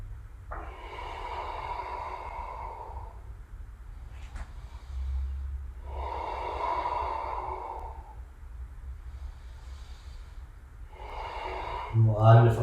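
Slow, deep yoga breaths held through a humble warrior pose, several long airy inhales and exhales in a steady cycle, close to the mic over a low constant hum.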